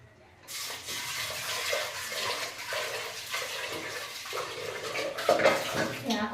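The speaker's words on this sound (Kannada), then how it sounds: "ಬೇಳೆ ಹಾಕ್ಕೊಂಡು ತೊಳ್ಕೊಂಡು ವಾಶ್ ಮಾಡ್ಕೊತೀನಿ." Lentils being washed in water in a kitchen for drumstick sambar, with a continuous splashing, sloshing rush of water and occasional clinks of a vessel, close and loud throughout.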